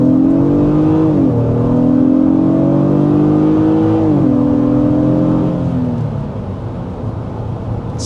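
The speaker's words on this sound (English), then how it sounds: "Sport mode acceleration there." A 2026 Honda Pilot Elite V-6 in sport mode accelerates hard, its engine note climbing loudly through rising gears with brief dips at the shifts, then easing off toward a quieter cruise, heard from inside the cabin.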